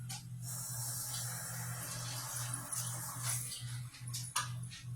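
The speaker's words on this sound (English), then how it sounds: "And rinse our bowls" Tap water runs and splashes steadily while dog food bowls are rinsed in a kitchen sink, a continuous close spray with a few brief clatters near the end.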